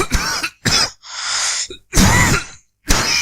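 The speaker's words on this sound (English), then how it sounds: "A dry cough does not produce mucus because there is no mucus blocking the lungs or airways." A person gives a dry, unproductive cough with no mucus. Five short, harsh, close bursts come in quick succession, separated by brief silences.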